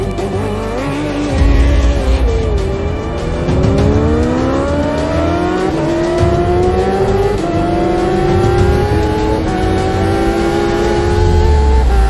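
A Kawasaki Ninja H2R supercharged track motorcycle races at high speed, its loud engine climbing in pitch through repeated gear pulls with brief drops between shifts, close and unbroken for the whole stretch.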